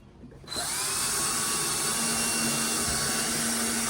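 A power drill boring a hole into a doll parade float stage, spinning up abruptly after a brief quiet start into a loud, steady high whine that holds to the end.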